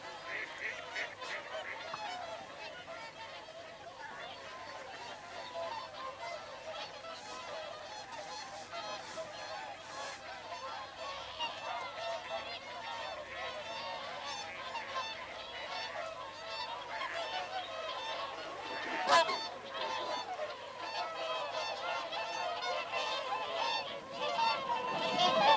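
Whooper swans calling on the ice, a continuous chorus of honking, trumpeting calls under a steady wash of sound, with one louder burst near the end.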